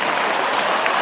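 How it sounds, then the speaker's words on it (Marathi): Audience applause at a Marathi public talk or recitation, a dense steady clapping that fills the whole moment and stays loud and even throughout. "टाळ्या"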